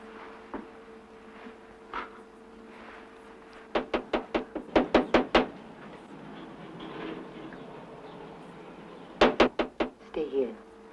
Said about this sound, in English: Let him knock.